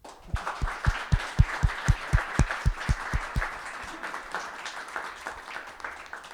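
Applause from a small audience at the close of a panel discussion at a Web3 security summit, with a few loud, evenly spaced claps standing out for about three seconds before the clapping fades into a scattered, thinner patter.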